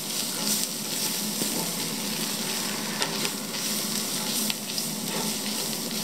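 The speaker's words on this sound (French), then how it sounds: "On va mettre notre farine. D'un coup, on va remuer." Flour is tipped into lightly caramelized onions and stirred hard in the pot for traditional French onion soup, giving a steady loud sizzle broken by scraping stirs and a few sharp clicks.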